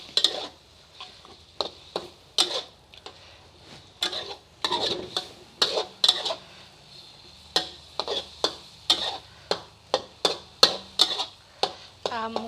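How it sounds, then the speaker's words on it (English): A utensil stirs and scrapes red curry paste with oil in a pan for a Thai dish, producing a close, regular series of sharp metallic scrapes under a faint sizzle, with no one speaking. "So I mix it well with the oil"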